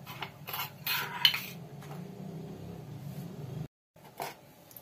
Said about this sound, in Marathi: इथं तर मी गॅसवर पॅन ठेवलेला आहे, त्यात थोडं तेल टाकते